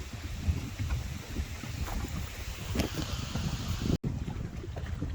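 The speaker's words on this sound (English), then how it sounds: "It's a little chilly and a little windy." Steady wind buffeting the microphone on a chilly lake during crappie fishing, a constant loud rumble with gusty swells and one brief dropout.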